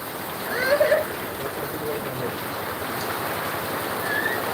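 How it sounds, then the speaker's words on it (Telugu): Heavy rain pours down in Velichala as a steady, dense hiss that holds at an even level throughout, with a slightly louder swell near the start. "ఈరోజు అయితే వర్షం అయితే పడుతుంది చూడండి"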